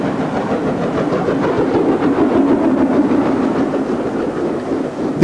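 An LMS steam locomotive train runs on a Worcestershire branch line, a loud, steady rolling rumble with rhythmic clatter of wheels on rails, close and unbroken, no voices.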